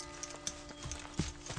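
Hooves of an Andalusian-Lipizzaner cross stallion clop faintly in an irregular patter of soft knocks, with one firmer strike near the end, no talk.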